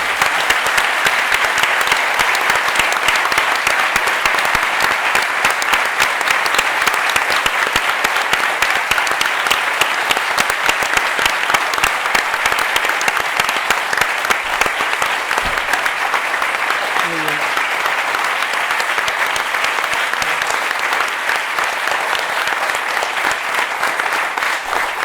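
A long, loud round of audience applause at a closing ceremony, steady and dense throughout with close individual claps, and a faint voice briefly rising through the crowd noise midway.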